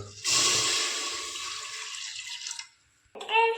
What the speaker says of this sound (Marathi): आता कुकरमध्ये पाणी टाकून घेऊ